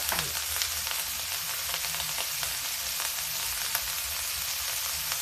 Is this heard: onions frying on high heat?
yes